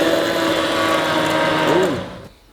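A handheld immersion blender runs with a steady motor whine, dips briefly in pitch near the end, then cuts off, leaving near silence.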